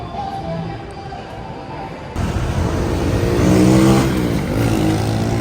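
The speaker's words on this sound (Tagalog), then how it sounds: "Napakalalaking truck na naman po ang dumadaan ngayon dito sa kahabaan ng Governor Pascual Street dito sa Malabon" Very large trucks pass along Governor Pascual Street in Malabon, a loud, close engine roar that swells and builds after a quieter start, with rising and falling motor tones as the vehicles go by.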